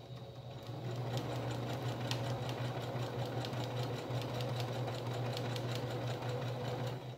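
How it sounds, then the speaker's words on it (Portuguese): Sewing machine running steadily and close, stitching fabric pieces for a patchwork rug made from reused cloth, with a continuous motor hum and rapid needle ticking throughout. "eu tô costurando do lado da cola"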